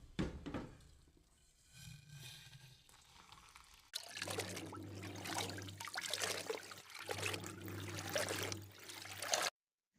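Hot water poured from a vessel, first a soft trickle and then a fuller, steady pour for several seconds before it stops abruptly; quiet and close.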